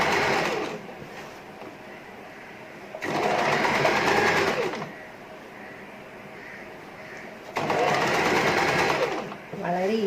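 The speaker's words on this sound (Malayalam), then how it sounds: "ഇപ്പം നമുക്ക് ഇങ്ങനെ ഫുള്ളി ഒന്ന് തയ്ച്ചു കൊടുക്കാം." A sewing machine stitches fabric in a round, in bursts of fast whirring broken by quieter pauses, with someone talking over it.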